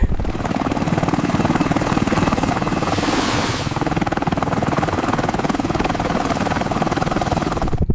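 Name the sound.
helicopter landing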